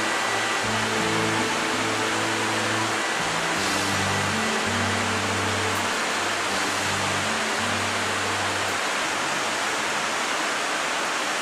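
Steady broadband rushing of the Váh river flowing through Trenčín on a mid-September day, a continuous even wash of water with low rumbling tones running beneath it and no voices.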